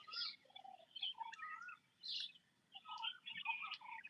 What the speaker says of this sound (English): I hope you must be enjoying this bird sound in the background